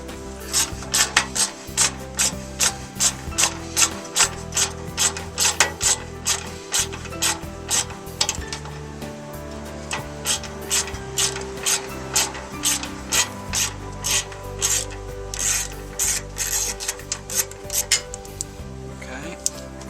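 Ratchet wrench removing Torx T30 screws from a Range Rover Sport front fender, a long run of rapid, close clicking strokes in a steady rhythm, with brief pauses between bursts.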